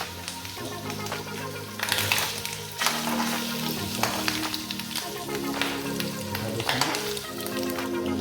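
Meat fries in bubbling oil with a loud, continuous crackling sizzle and bursts of sharper spitting, while steady tonal humming sounds, likely music or a voice, run underneath.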